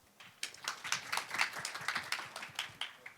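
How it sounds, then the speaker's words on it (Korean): An audience at a startup investment panel talk gives a short burst of applause, with dense, fairly soft clapping from a crowd in a hall that rises quickly and stays steady for a few seconds. "박수를 받고 싶어서 한번 했고요"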